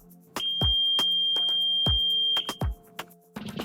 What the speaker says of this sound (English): The buzzer will also sound a loud alert.